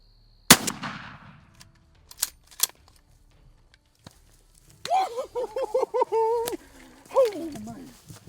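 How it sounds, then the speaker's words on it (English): A single sharp, loud shotgun blast rings out during a turkey hunt on a Texas ranch, followed by a few faint clicks and then excited voices talking nearby. "I'm gonna shoot."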